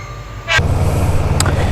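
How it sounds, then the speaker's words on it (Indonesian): A train passes close by as a loud, steady low rumble, with a short high squeal at the start and another brief bright screech near the end, and no talk. "Ada kereta lewat"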